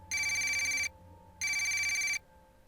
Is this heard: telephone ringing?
yes